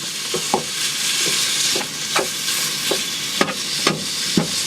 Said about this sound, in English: Just chop the mince up.